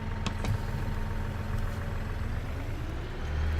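A tractor engine idles in Farming Simulator 19 with a steady, fairly quiet low throb that swells slightly near the end, marked by a few brief clicks and no talking.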